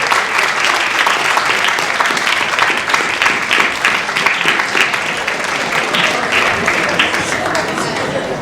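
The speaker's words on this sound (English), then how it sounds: "turn and acknowledge your parents with a round of applause as well" Sustained, dense applause fills a school auditorium at an honor society induction ceremony as the audience claps steadily for the inductees' parents, loud and unbroken for several seconds.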